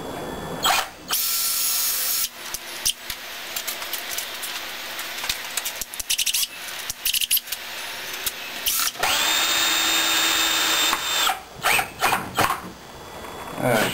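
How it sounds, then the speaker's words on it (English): A power drill whines steadily for several seconds while pre-drilling wood for screws, stops, then starts again with a rising motor pitch, close by with some background clatter. "Doing the pre-drilling so I don't split the wood."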